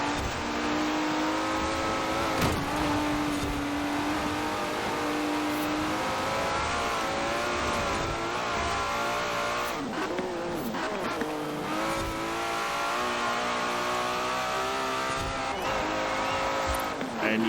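A tuned Aston Martin driving in Forza Horizon 4, its engine revving through rising and falling gear changes with occasional tire squeal, sustained and fairly loud, with faint talk in the background.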